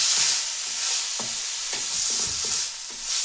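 Salted onions sautéing in a pan for chicken gravy, a continuous crackling sizzle with several soft scrapes and knocks as a spoon stirs them.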